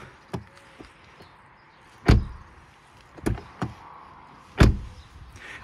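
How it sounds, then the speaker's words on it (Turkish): A car door treated with silicone spray is opened and shut several times, giving close, loud thuds and latch clunks with softer clicks between them and quiet in the gaps. "Kapı çok daha güzel kapanıyor ve güzel açılıyor."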